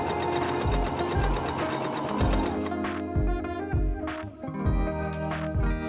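A sewing machine runs in rapid, rhythmic bursts, stopping and starting repeatedly as it quilts the Amalfi Coast quilt. It is close and loud, with no talk.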